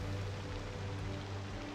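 Steady rain falling on a city in Cities: Skylines II, a continuous hissing wash with a low rumbling bed, even and unbroken throughout with no voices.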